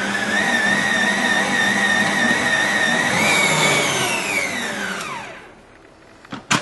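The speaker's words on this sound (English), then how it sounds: "So whether you're using electric whisk or something like this, start it off slow and then speed it up and mix it all together" An electric whisk beats Victoria sponge cake batter with a steady, close, high-pitched motor whine that rises slightly in pitch, then winds down and stops, followed by a couple of faint knocks.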